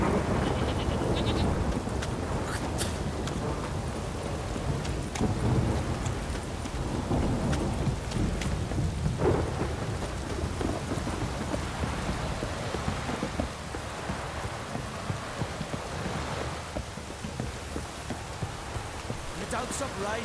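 Steady heavy rain with a low rumble of thunder rolling underneath in the video game The Witcher 3: Wild Hunt, dense and continuous, with a few faint voices and bleating sounds mixed in.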